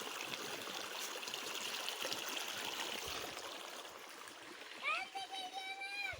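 Water from a borehole spring in Kılıç village, Isparta, flows and trickles steadily in a continuous close rush, with a person's voice briefly heard near the end.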